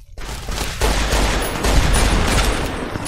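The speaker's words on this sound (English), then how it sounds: "Who the fuck is still shooting at me?" Dense gunfire from a survival shooter game, rapid overlapping shots and bursts forming a loud, continuous fusillade close by with heavy low rumble, lasting throughout without talk.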